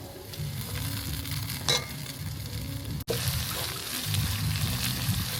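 Ginger paste sizzling in hot oil while a village-style spicy pork curry cooks, a steady crackling fry with small pops and a brief scrape partway through.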